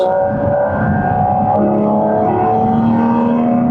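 Porsche 718 Cayman GT4 RS flat-six revving hard on a road drive, a loud, close, sustained engine note climbing steadily in pitch with no talk over it.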